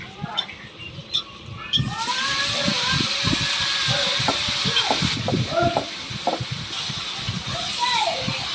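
Onions sizzle in oil in a pot on a clay stove, a steady frying hiss with stirring scrapes, while people talk and children's voices carry nearby.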